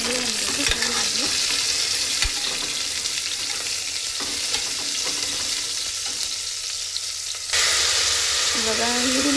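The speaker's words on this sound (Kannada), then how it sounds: "ಇವಾಗ ಈರುಳ್ಳಿ ಒಂದು ಸ್ವಲ್ಪ ಫ್ರೈ ಆಗಬೇಕು" Onions frying in a pan for drumstick sambar, a loud continuous sizzle with occasional stirring scrapes, steady throughout and briefly louder near the end.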